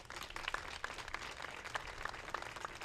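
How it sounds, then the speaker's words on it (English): An audience applauds staff at a Learning Corner graduation ceremony, a steady wash of many hands clapping at moderate distance for about three seconds with no voices. "I wonder if we could take a few seconds to give a big round of applause to our staff"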